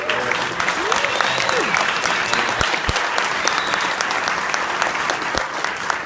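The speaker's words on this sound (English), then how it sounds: "Let's raise a round of applause for them" An audience gives a round of applause at an event, steady and fairly close, with a brief voice early on and a few sharp knocks.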